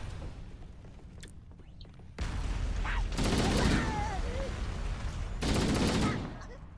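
Bursts of rapid gunfire from Halo: Combat Evolved ring out in several loud stretches over a steady hum, with a short quieter gap in between.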